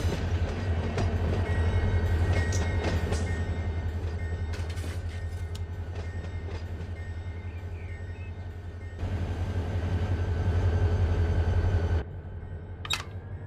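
Locomotive in the Run 8 train simulator game, a steady low diesel rumble with creaks and clanks on top, ending in a sharp screech near the end.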